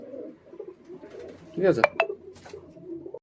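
Giribaz flying pigeons coo in low, throaty rolls through the clip, with a short spoken word and a light clatter of dishes or metal midway.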